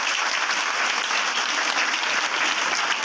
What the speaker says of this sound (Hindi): एक बार जोरदार तालियां बजाऊंगा